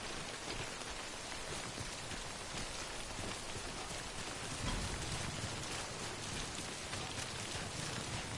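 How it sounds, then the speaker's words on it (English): Heavy timefall rain in the video game Death Stranding pours down in a dense, continuous hiss, steady and loud throughout with no voices. "Don't stay out in the rain any longer than you have to."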